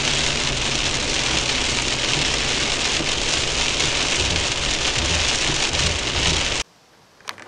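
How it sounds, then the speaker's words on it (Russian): Heavy downpour drumming on a car driving along a road south through Abkhazia, a loud, dense, steady roar of rain lasting several seconds before cutting off abruptly into near silence. "Это я понимаю, ливень."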